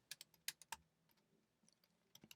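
A font name is typed on a computer keyboard: a scattered run of close, crisp keystrokes, several quick taps early, then a pause with faint clicks before another short burst at the end.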